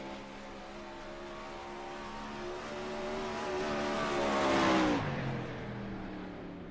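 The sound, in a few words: 410 winged sprint car running a flying lap at Knoxville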